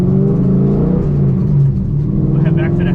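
A Nissan 350Z engine rumbles steadily close by, revving gently as the car is driven, with someone talking over it.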